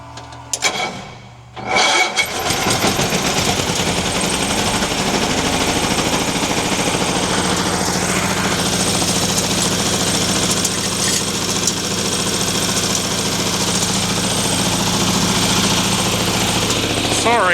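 The Cushman El Hefe engine starts after a brief sputter and then runs very loudly and steadily up close, a dense continuous rattling roar lasting throughout.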